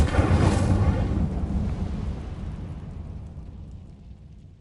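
An Incendio fire spell cast in Hogwarts Legacy erupts as a loud whooshing burst of flame, then a rumbling roar that slowly dies away over several seconds, with no voices over it.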